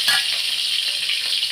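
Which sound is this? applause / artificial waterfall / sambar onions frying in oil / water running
sambar onions frying in oil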